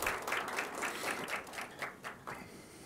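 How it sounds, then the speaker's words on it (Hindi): An audience at an MBA orientation day director's speech claps in steady, moderately loud applause that thins out toward the end, with no talking over it. "ताली बजाते रहा करो।"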